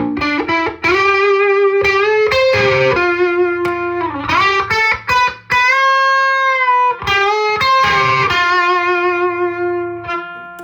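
ESP USA Eclipse electric guitar with Bare Knuckle Cold Sweat pickups, coil split, through a Mesa Boogie Mark III+ amp: distorted riffs with sustained bends and ringing held notes, close and loud with no talking.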